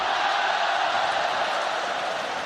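A packed football stadium crowd roaring for a shot during a Liverpool match, a loud, continuous wall of massed voices with no break.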